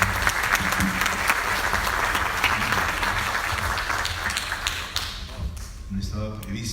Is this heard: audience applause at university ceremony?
yes